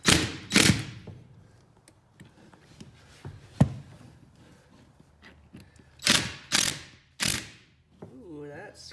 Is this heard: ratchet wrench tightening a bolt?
yes